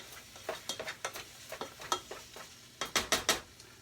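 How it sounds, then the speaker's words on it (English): Sausage browning in a frying pan for dirty rice, a low sizzle under a string of stirring scrapes and light utensil taps that bunch into quicker strokes near the end. "we've been browning off our sausage, making sure there's no pink left in there. Get it nice and sizzled up"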